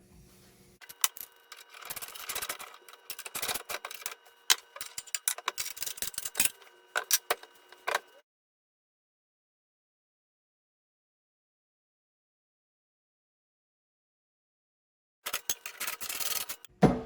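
Carriage bolts on a Brinly box blade being tightened, heard as close, irregular ticking and ratcheting scrapes in two bursts separated by a long stretch of silence.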